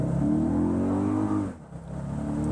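A 2024 Toyota Grand Highlander pulls away under hard acceleration, its engine note loud and rising steadily for about a second and a half before dropping off briefly, then building again, with no talking.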